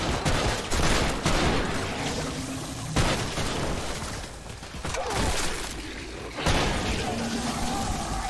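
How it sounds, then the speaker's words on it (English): Dense gunfire and booming blasts fill a hectic firefight in the shooter game Trepang2, with heavy repeated shots, impacts and crashes overlapping loudly throughout. "I got a sniper rifle."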